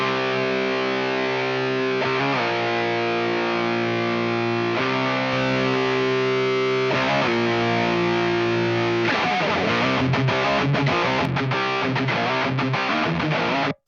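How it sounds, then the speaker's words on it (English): A distorted electric guitar bus in a mix, processed with a distortion plugin, plays sustained, gritty chords, then shifts into faster, choppier strums near the end, loud and continuous. "I'm adding some distortion."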